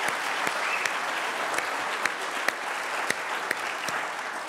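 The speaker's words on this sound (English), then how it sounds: "how about a big round of applause?" A live audience at a Cracker Barrel breakfast event with Mesa's mayor-elect gives a big round of applause, steady dense clapping with a few sharper claps standing out, sustained and fairly close throughout.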